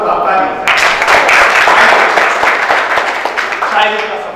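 An audience at a Bandra mushaira, a gathering for Urdu poetry, breaks into loud, dense applause that holds steady for several seconds. It fades slightly toward the end, and a voice speaks just before and after the clapping.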